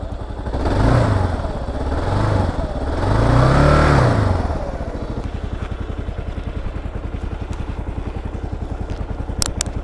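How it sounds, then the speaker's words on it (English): A Kawasaki KLR 650 motorcycle's single-cylinder engine revs up twice in loud swelling bursts, then settles into a steady, close, rhythmic chugging idle. "We got a good rev out of that"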